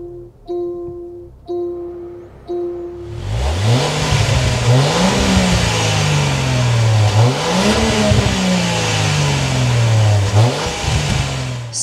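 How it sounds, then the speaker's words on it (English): A 2024 Range Rover Velar Dynamic HSE P400's door chimes ring briefly, then the engine starts and revs repeatedly, the deep exhaust note rising and falling in loud, close bursts with no talking. "start up this P400 so you can hear that exhaust note"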